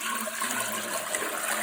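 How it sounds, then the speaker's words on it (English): A bucket of water thrown into a toilet bowl during a bowl removal, a short loud rushing gush with no talk. "We have to throw a bucket of water"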